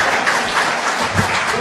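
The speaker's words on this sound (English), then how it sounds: "A round of applause." Audience applause at a public address in Uganda, a dense, steady wash of clapping for a brief moment.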